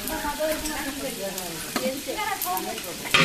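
Onion, cinnamon, cloves and green chili sauté for biryani, a steady close sizzle broken by scraping stirs and a sharper clatter near the end.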